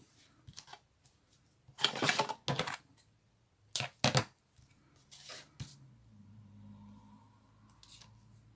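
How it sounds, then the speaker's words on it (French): Double-sided tape pulled and pressed along the edges of a handmade paper envelope for a small Christmas album, a few short close bursts of tearing and rustling separated by quiet pauses. "je vais venir mettre du double face, en fait, sur chaque côté de mon enveloppe"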